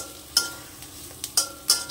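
Green banana peel fries in a pan, a steady soft sizzle broken by several sharp clattering stirs and scrapes of a utensil, close by; no talking.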